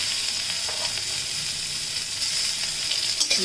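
Dry chili, ginger and onion fry in a pan with a steady, close sizzle that runs unbroken. A few soft stirring scrapes come through near the end.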